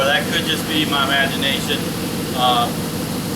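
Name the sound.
Dodge Hemi engine running after camshaft sensor fix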